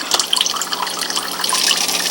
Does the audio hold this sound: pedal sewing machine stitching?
no